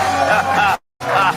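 A television studio audience claps and cheers loudly in a dense burst that cuts off abruptly into brief silence, then resumes with more applause and hollering.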